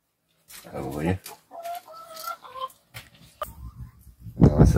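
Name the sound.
hens clucking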